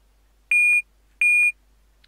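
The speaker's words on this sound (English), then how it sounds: "we hear the beeping noise" A computer in the Computer Shop Simulator video game gives two identical high electronic beeps on power-on, each lasting about a third of a second, evenly spaced and clean against near silence.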